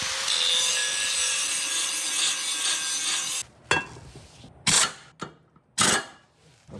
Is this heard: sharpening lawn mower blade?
yes